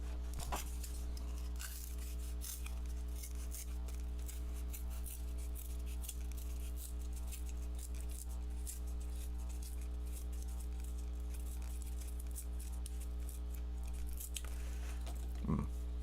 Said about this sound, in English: So I'm going to use my scissors for this to make a small circle.